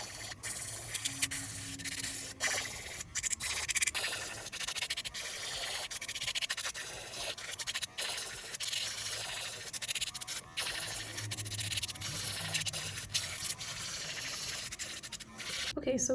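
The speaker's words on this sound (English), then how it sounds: "I'm going to take my fine grit sanding band and I'm going to remove the shine from all the nail tips" Steady, close gritty rubbing from a fine grit sanding band on nail tips goes on throughout, with brief pauses and faint speech underneath.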